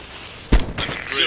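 A sharp gunshot burst from a firefight in ARMA 2: Operation Arrowhead, one loud close crack followed by a rattling tail and further distant shots, with voices over the action.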